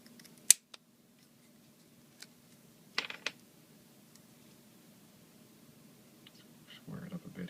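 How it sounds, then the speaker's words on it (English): Snips cut a thin strip of metal contact in a quiet room, giving a few sharp, brief clicks and a short cluster of snips near the middle, followed by low handling noise. "And I'm just going to cut a little strip."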